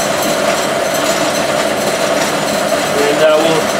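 Clausing metal lathe running on a VFD, a steady mechanical hum and whir with faint rattling, close and continuous throughout.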